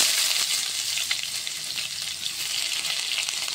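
Onions sizzle hard in hot oil with mustard seeds and dried chillies, a loud, dense, continuous crackling hiss close up, with no talking.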